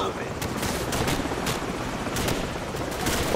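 Rapid automatic gunfire crackles in a Call of Duty 4: Modern Warfare firefight, bursts of shots layered over dense game noise and a low rumble, steady and fairly close throughout.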